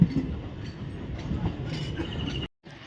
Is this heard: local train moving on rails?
yes